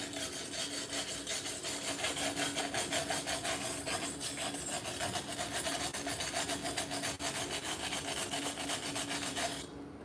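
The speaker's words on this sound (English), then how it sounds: "Now grab your metal wire brush" A metal wire brush scrubbing a fresh weld, producing a continuous rapid rasping back-and-forth scrape, close and steady for about ten seconds before stopping.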